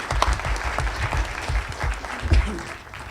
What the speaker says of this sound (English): Everyone gets a round of applause